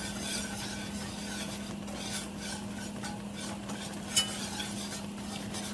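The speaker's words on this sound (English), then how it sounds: "now you're going to whisk that together" A whisk scrapes and stirs margarine, shortening, cornmeal and flour together into a browning roux in a pan, a steady close rasping swirl with a faint sizzle and one sharp tap near the end.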